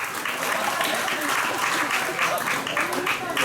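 A school poetry recitation audience breaks into loud, sustained applause, a dense continuous patter of many hands clapping throughout with a murmur of crowd noise beneath.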